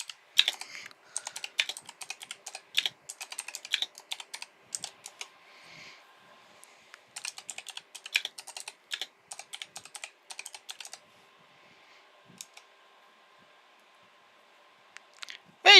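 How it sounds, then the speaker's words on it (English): Rapid bursts of computer keyboard typing in several runs with short pauses, close and clear, no talking. "Just typing in KJ's chat"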